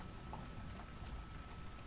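Steady rain pouring down during a storm in New York, a dense continuous hiss with no talk.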